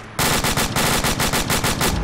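Rapid automatic gunfire in a video game rattles in a loud, continuous stream of closely spaced shots aimed at the player, filling the whole short burst with no talk.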